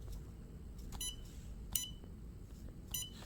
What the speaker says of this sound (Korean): 만약에 부저 소리 끄려면 여기서 키고 끄고 할 수 있습니다